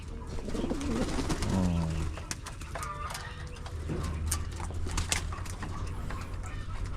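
Pigeons bathing in a pigeon loft, with splashing and wing flutters, soft cooing and scattered clicks, close and moderately quiet.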